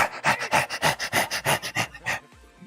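A dog pants rapidly and close by, about a dozen even, rhythmic breathy huffs that then trail off into quiet.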